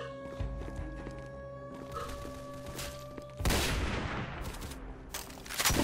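Gunfire in the video game Counter Blox: sharp shots ring out among steady game background hum, with a louder burst of firing near the end.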